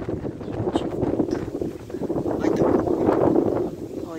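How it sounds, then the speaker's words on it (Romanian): Strong wind roars at the onset of a storm near a village, a loud continuous buffeting rush over the microphone that swells and eases over a few seconds. "Da, cum bate vântul."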